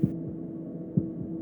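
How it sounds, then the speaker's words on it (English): A heartbeat sound effect in the game Slay the Princess thumps twice about a second apart, low and muffled over a steady droning hum with no talking. "That was the sound of a heartbeat"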